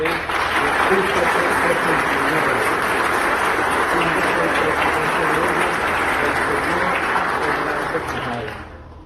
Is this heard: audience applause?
yes